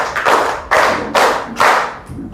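Four firm hand claps at a steady counting pace in a children's number game, close and bright, followed by a softer fifth tap, with no talk over them.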